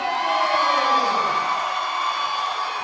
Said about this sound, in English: Judah Yazi for the Falcons as the crowd erupts.